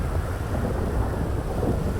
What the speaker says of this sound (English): asking the devs if they can turn down the sound of the rain a little bit